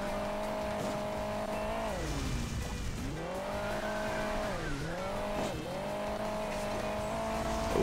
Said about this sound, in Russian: Что-то мотоцикл в горку-то не тянет